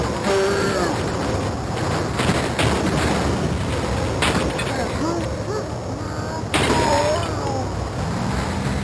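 Gunfire in the video game The Last of Us Part II in 8-bit mode: a few sharp shots spaced several seconds apart within a dense, busy mix of game sound, with voices present.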